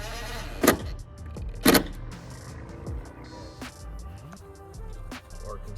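Goats at a backyard playground bleating in two loud, close calls a second apart, followed by quieter scattered bleats and small rustling noises with no talking.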